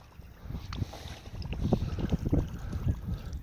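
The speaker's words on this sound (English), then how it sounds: "it makes a lot of plopping noise" A Berkley Bucktooth Beaver topwater lure plops and splashes across open water as it is worked for bass, giving a run of uneven wet pops and gurgles over wind noise.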